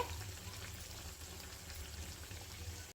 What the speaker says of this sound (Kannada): ಈಗ ಇದನ್ನು ಹೈ ಫ್ಲೇಮಲ್ಲಿ ಚೆನ್ನಾಗಿ ಗೋಲ್ಡನ್ ಬ್ರೌನ್ ಬರೋವರೆಗೂ ನಾವು ಫ್ರೈ ಮಾಡ್ಕೋಬೇಕಾಗತ್ತೆ